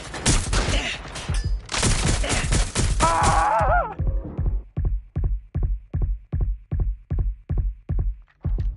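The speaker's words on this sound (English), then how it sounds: "Shots fired!" Rapid gunfire in the video game Watch Dogs: Legion, a dense burst of shots giving way to evenly spaced, loud single shots in a steady rhythm, with a brief whining effect partway through.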